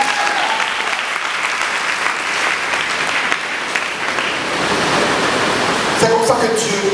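A church congregation applauds during a Sunday service, sustained dense clapping filling the room at an even level, with a few voices rising near the end.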